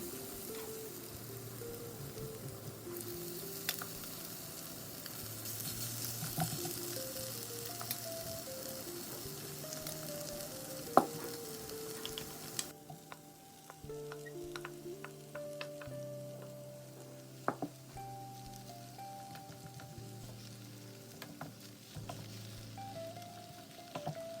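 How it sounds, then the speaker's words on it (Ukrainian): Steady, soft sizzling of potatoes frying in a hot pan, with occasional light clicks and scrapes, no voices. "викладаємо на розігріту сковородку картошку і прижимаємо її."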